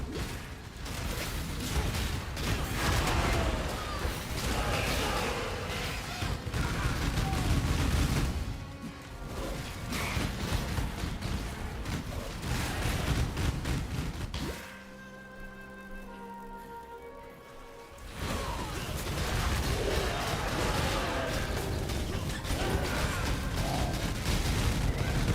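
Game mine explosions going off over and over, a dense, loud stream of booms and crackling blasts that briefly drops away before resuming, close and without speech.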